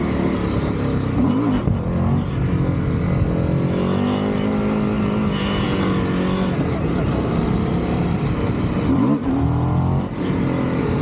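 Indian FTR 1200 motorcycle, a 2024 Carbon model, with its engine running loud and close, revving up and down on the throttle with rising and falling pitch sweeps; a voice talks over much of it.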